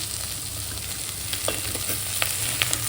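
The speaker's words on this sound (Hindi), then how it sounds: "डोसा बन रहा मेरा, देखो डोसा बन रहा" Dosa batter frying on a hot pan gives a steady, soft sizzle with a few faint crackles and light scrapes, close by and without talk.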